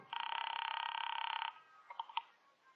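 An old-time radio drama telephone rings in a rapid trilling burst for about a second and a half, then stops, followed by a few faint clicks and knocks of a receiver being picked up.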